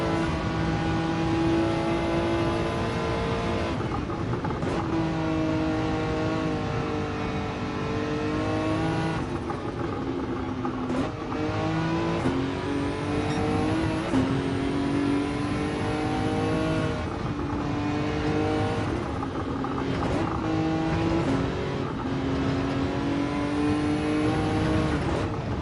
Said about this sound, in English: GTR does pull nicely.